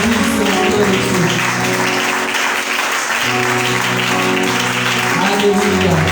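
A church congregation applauds and acclaims in praise, with dense, steady clapping filling the room alongside sustained voices and musical tones throughout.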